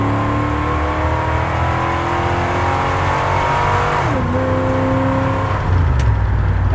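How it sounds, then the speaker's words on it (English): A car kicks down and accelerates through its gears after a transmission repair: a loud, steady engine drone whose pitch climbs, then drops at an upshift before climbing again, heard from inside with no talking. "Actually, that shifts better than it did before."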